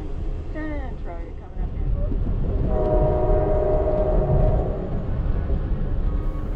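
An Amtrak Coast Starlight passenger train rumbles steadily into Centralia station with a horn sounding, its low mechanical roar filling the space as it rolls along, with some voices faintly underneath.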